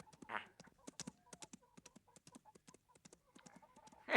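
Rapid hoofbeats clatter in a quick, uneven rhythm, fairly faint and a little distant, with a brief whinny-like sound near the start.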